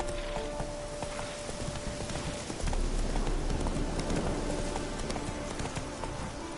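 Roach, the horse from The Witcher 3, gallops with a rapid, steady clip-clop of hooves under a continuous noisy background, growing slightly louder partway through.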